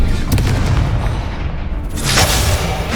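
An Incendio fire spell is cast in Hogwarts Legacy, giving deep, loud booming bursts over a dense rumble, with a brighter flare of crackling blast toward the end.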